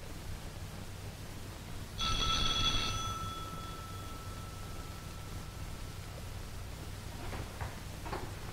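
An old-style telephone rings once in a 1930s film, a single bright electric ring lasting about a second over quiet background hiss, followed by faint clicks.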